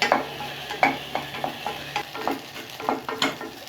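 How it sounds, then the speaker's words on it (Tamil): Okra is sautéed in a pan, a soft sizzle broken by repeated sharp spatula scrapes and taps in an uneven rhythm, close and without talk. "நல்லா இதை வதக்கி விடணும்."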